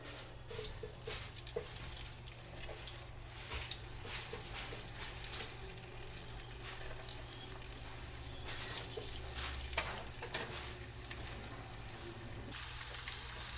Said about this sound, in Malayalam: നമ്മളിപ്പോൾ കോളിഫ്ലവർ ഫ്രൈ ചെയ്യാനിട്ട് ഇടയ്ക്കൊന്ന് മറിച്ച് കൊടുക്കുക